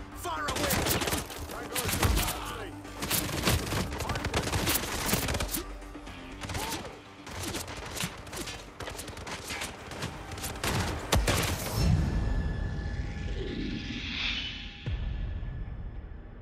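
Rapid bursts of gunfire fill a Hitman 3 mission in Sarajevo, with dense overlapping shots and volleys running almost continuously, then thinning to a few isolated shots near the end.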